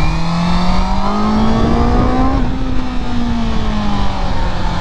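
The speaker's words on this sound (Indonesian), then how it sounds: "Seriously, memang bunyi inline 4 betul-betul lah." A 2023 Honda CB650R inline-four motorcycle engine accelerating hard, its steady, loud whine climbing in pitch, easing briefly, then holding high, close and continuous with no talk.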